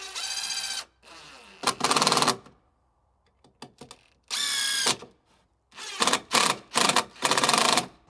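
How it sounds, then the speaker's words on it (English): A power drill drives 2½-inch screws into wooden patio table legs in several short whirring bursts with pauses and small clicks between, loud and close. "drive a couple of 2½-inch screws from the other side"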